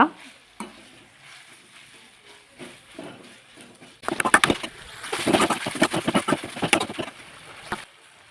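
Coriander and mint leaves dry-roasting in a pan for a village-style mushroom sambar: quiet at first, then midway loud, busy scraping and stirring with light crackling that continues to the end.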